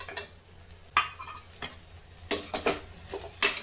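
Ginger is stirred into a paneer gravy in a pan, with spoon scrapes and clinks over a soft sizzle, coming in a few separate bursts with quiet gaps between them.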